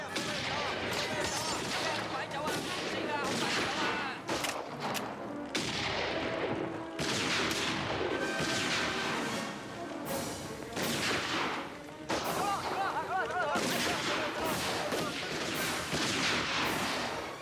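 Heavy gunfire and shooting fill an action scene, with loud booming blasts and volleys repeating throughout and voices shouting amid the chaos.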